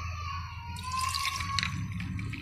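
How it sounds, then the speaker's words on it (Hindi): Fresh homemade orange juice poured into glasses with ice, a steady liquid trickle and splash running close and continuous with faint clinks throughout. "अब हम इसमें जूस डाल देंगे"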